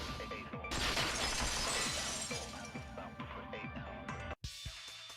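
A vase shatters in the Danganronpa 2: Goodbye Despair video game: a loud crash of breaking glass and ceramic with scattered tinkling fragments, a sharp dropout near the end, then a brief resumption.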